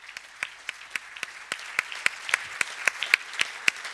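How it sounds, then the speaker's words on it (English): At a policy conference, a few hands clap for a panel in an even, steady rhythm, each sharp clap distinct and close, with a faint murmur of a larger crowd underneath and growing slightly louder. "please give a warm round of applause to our excellent panel"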